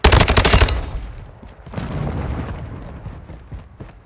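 Loud, close bursts of automatic gunfire in Call of Duty Modern Warfare II team deathmatch, a rapid volley in the first second followed by rumbling booms and scattered distant shots.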